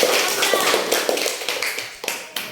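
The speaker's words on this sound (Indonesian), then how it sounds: "Bagus, tepuk tangan." Classroom pupils in a teaching-practice lesson clap briefly for a classmate who answered, a quick burst of close, uneven claps that taper off.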